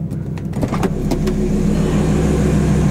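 A gold Audi R8 sports car arrives at a house, its engine rumbling steadily and growing slightly louder, with a few sharp clicks and knocks early on.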